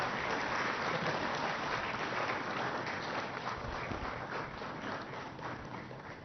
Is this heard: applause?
yes